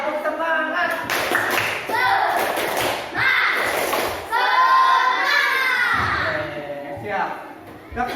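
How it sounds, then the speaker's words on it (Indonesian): A school class performs a rhythmic spirit clap, bursts of patterned hand claps and thumps mixed with children's shouting and chanting voices, loud and close. "Tepuk semangat lah sekali ini."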